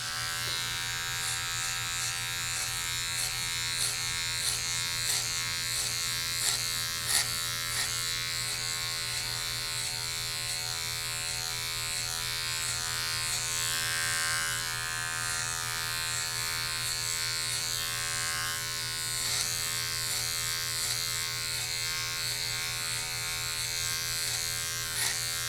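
Electric hair clippers fitted with a number 6 guard cutting the sides of a head during a high fade haircut, a steady close-up buzzing hum that runs continuously with small fluctuations as the blade moves through hair.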